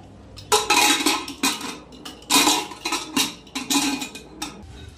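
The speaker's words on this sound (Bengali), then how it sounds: "এবার ঢাকাটা আটকে দেবো।" A metal lid is fitted onto a pressure cooker holding peas and salt, giving a series of close, loud clanks and scrapes of metal on metal in irregular bursts, with no voices.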